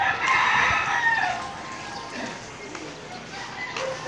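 Roosters and chickens on a street in Cebu crow and cluck nearby. One loud crow stands out clearly and other birds answer more faintly over the street background.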